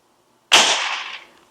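BSA R-10 MK2 air rifle fired once, a single sharp close crack that rings out and fades over about a second after a quiet lead-in, with no talking.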